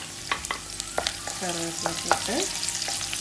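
Green chillies and curry leaves fry in coconut oil over a low flame for a prawn chilli fry, giving a steady crackling sizzle broken by a few scraping stirs and sharp pops, with no talking.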